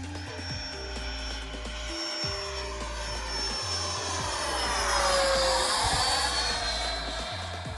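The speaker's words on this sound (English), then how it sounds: "Full speed low pass, then we'll set up for a landing." A Freewing F-22 Raptor RC jet with a 6S 90mm electric ducted fan makes a full-speed low pass, its loud whining roar building as it approaches, peaking close overhead and then fading away, with no talking.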